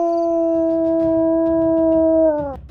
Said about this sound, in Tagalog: biglang umalulong ang asong alaga ng mga sundalo. Talagang malakas ang alulong nito